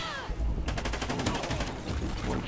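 Gunfire in a first-person shooter game during an objective-capture match, a sharp burst of rapid shots ringing out loud and close, followed by continued crackling game noise.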